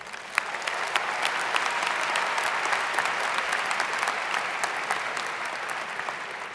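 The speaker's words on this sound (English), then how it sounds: "One more big round of applause for everyone." Crowd applause fills an arena at a business school commencement ceremony, dense and sustained with sharper individual claps standing out, loud and continuous for about six seconds.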